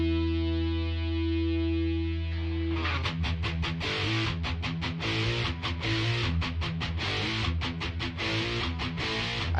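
Heavily distorted electric guitar from a song holds a sustained chord, then breaks into fast, chugging palm-muted rhythm playing with a buzzy, saturated tone.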